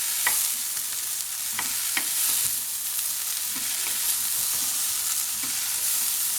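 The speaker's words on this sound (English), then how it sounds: "Just going to stir those in for a moment." Chilli stirred into vegetables frying for soup gives a steady, close sizzle with soft stirring scrapes mixed in throughout.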